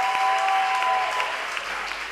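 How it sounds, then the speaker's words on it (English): A crowd at a television talent contest claps for a contestant, a dense, continuous wash of applause, fairly loud and even, with a brief tonal whistle or feedback line early on. "Ladies and gentlemen, a round of applause for Ohima."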